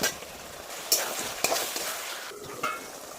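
Potatoes and spices fry in a pan and are stirred, giving a steady sizzle broken by several sharp scraping stirs, close and fairly quiet, with no talking.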